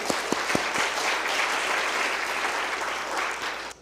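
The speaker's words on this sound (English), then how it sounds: "Round of applause for them, please." An audience at a cyber defense conference presentation breaks into applause, a dense wash of clapping with a few sharp claps at the start that carries on evenly before fading slightly at the end.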